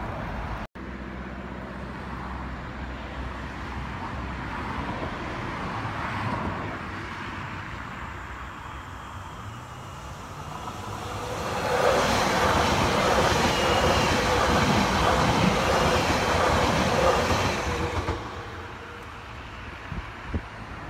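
A Z50000 electric train passes on Paris line H, a rumble building from afar into a loud, broad rushing roar for several seconds before cutting off as it goes by.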